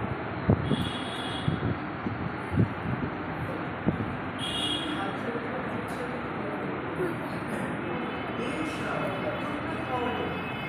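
A train rumbling along the rails with a steady, dense roar and occasional clunks, heard from inside a carriage.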